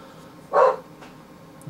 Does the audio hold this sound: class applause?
no